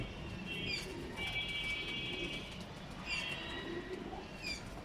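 A pair of White Grizzle pigeons gives faint, low coos mixed with thin chirps from other birds, over a steady ambient hum.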